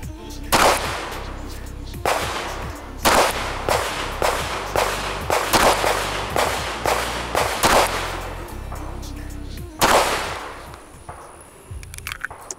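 A Springfield Hellcat RDP pistol fired at a range, sharp loud close shots coming in uneven bursts, with a short pause before a final report.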